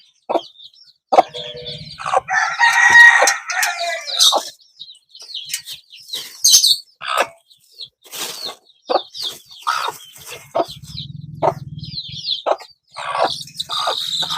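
A brood of eight newly hatched chicks, all out of their eggs after 21 days, cheeps in a steady stream of high, bright peeps that overlap and carry on without pause, with occasional soft wing flutters and low murmurs nearby.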